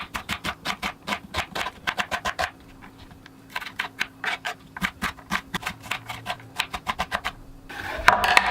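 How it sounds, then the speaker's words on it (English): Onion being diced with a knife on a cutting board, rapid rhythmic chopping taps in close bursts separated by short pauses. "we're just gonna peel the onion and then dice that up."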